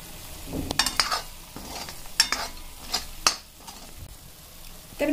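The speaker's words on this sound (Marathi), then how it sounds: "आपल्याला मसाल्याला तेल सुटेपर्यंत भाजायचं आहे" Masala fries in oil for egg curry, giving a low sizzle broken by repeated scraping and clinking strokes of a spatula against the pan.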